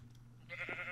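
A pink sheep in the video game Minecraft gives a short bleat near the end, after a faint low hum with no talking.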